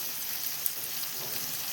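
Onions frying in a pan for a chanchala curry give a faint, steady sizzle and crackle throughout, heard alone without talk.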